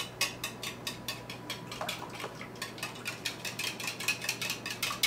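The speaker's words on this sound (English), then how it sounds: "I'm going to take my four eggs and I'm going to use the whisk on them a little bit." A whisk beats four eggs in a bowl, giving a fast, steady run of light metallic clicks and taps, close and fairly quiet.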